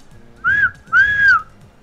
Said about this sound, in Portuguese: Beleza, então, tem que assobiar duas vezes, né?